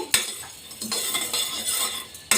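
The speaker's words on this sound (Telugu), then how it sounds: "ఒక స్పూన్ వరకు జీలకర్ర రెండు స్పూన్ల వరకు ధనియాలు వేసుకున్నాను ఇప్పుడు వీటిని కొద్దిగా వేయించుకోవాలి" Cumin and coriander seeds dry roasting in a pan without oil, with steady scraping and stirring clinks of a spoon against the metal, fairly close and continuous, no voices.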